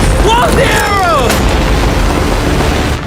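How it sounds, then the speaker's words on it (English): Game firework explosions hit a yacht, loud booming bursts with descending whistling trails in the first second and a half, then a dense rumbling wash of blasts continuing to the end, with no talk. "That firework just hit his yacht."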